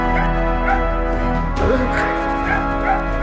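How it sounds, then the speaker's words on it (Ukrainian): A dog barks a few times in short yips, somewhat distant, beneath steady loud music and background sound. "Ще якась собака хавкає що район якийсь бешений у нас"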